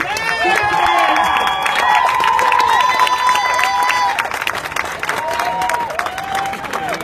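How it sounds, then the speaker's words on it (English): At an outdoor Black Lives Matter protest rally at a city hall, a crowd claps and cheers, loud at first and then thinning into scattered applause and shouts, with voices calling out over it. "So let's give him a hand of applause"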